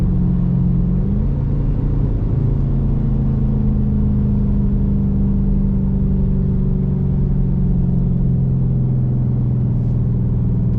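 A Chrysler 300 or Infiniti Q50 engine hums in a steady low drone, with a shift-like change in pitch early on and then a sustained cruising rumble throughout.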